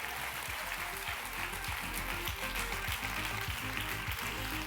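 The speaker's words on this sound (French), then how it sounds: "Je pense qu'on peut les applaudir." Conference keynote audience applauding the event partners, a steady dense wash of clapping throughout, broad and sustained with no talk over it.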